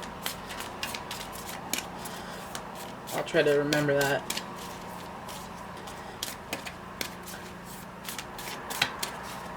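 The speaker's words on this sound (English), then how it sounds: "some of you said you wanted to see the shuffling." A deck of tarot cards is shuffled close up in repeated quick riffling bursts with crisp taps between, while someone talks over the shuffling.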